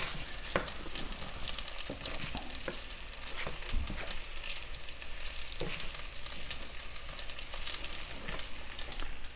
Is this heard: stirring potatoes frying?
yes